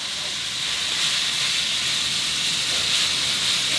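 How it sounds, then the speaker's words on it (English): Steady frying sizzle of fajita meat, a dense crackling hiss from a hot pan, close and even throughout, with no voices. "Okay, we'll let it sizzle up."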